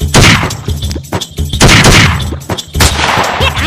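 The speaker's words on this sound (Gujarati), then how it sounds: "ફાયરિંગ કર." Loud, rapid gunfire rattles in dense overlapping bursts with heavy thumps, almost continuous for several seconds in a comedy skit.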